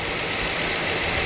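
Engine of a 2021 Toyota Corolla Cross running steadily, a dense continuous broadband hum and rush with no pauses, heard close and alone.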